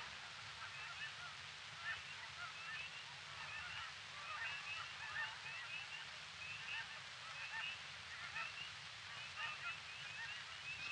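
A flock of Canada geese honks repeatedly in the distance, a steady faint chorus of overlapping calls over a soft outdoor hush.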